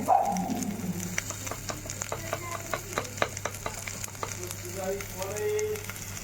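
Masoor lentils with salt and turmeric are stirred in a hot pan: a bright sizzle with quick scraping strokes and faint clicks, close by, with no clear talking.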